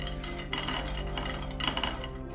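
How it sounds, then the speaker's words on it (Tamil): Half a cup of peanuts dry-roasting in a pan, stirred continuously with steady scraping and rattling, close and fairly quiet, with no voices. "அதே சட்டியில் அரை கப் வேர்க்கடலை, அதையும் வறுத்துக்கலாம்."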